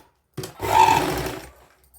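A sewing machine runs one steady burst of straight stitching on old saree fabric, starting abruptly after a brief click and whirring evenly for about a second before winding down, close and alone.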